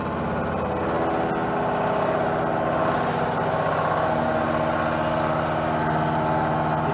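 A milling machine cuts steel while squaring up a block, giving a steady, loud mechanical drone with a constant tone that runs unbroken and close for the whole stretch, with no voices.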